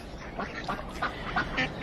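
Ducks approach on the water, quacking in a run of moderately close, nasal calls over a soft outdoor background, with no talk.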